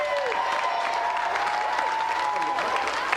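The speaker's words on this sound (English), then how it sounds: "Round of applause for Carl." Crowd applause and cheering fill a large venue, a dense steady clatter of clapping with a murmuring crowd underneath.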